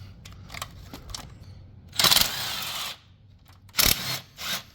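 A power tool with an E8 socket spins out the oil cooler bolts on a Jeep Wrangler, with a couple of loud, close whirring bursts separated by pauses, plus shorter bursts near the end.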